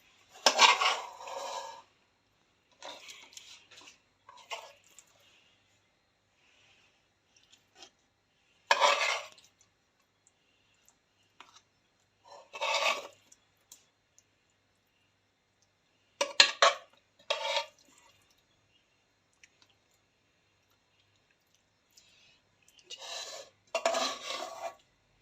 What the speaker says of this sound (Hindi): अब हम इसको बोतल में डालते हैं।